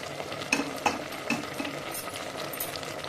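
A spoon stirs tamarind into tomatoes cooking for tomato pickle, giving close, intermittent clacks and scrapes against the pan over a low, quiet background, with no talk.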